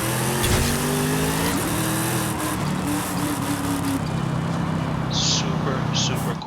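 A Chevrolet Camaro ZL1 1LE engine revs steadily and loudly in Forza Horizon 5, its tone shifting in pitch with a raspy edge, while a voice talks over it.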